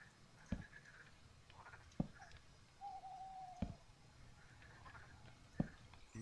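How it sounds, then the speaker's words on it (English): Ambient birdsong in a Minecraft Terrafirmacraft mod pack, a meadowlark-like bird: a thin whistled call in the middle, with several sharp soft thumps spaced through an otherwise quiet background. "I love the extra little ambient sounds with the birds. It's like a meadowlark that I keep hearing."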